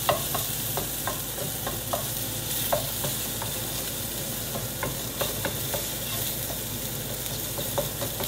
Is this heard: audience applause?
no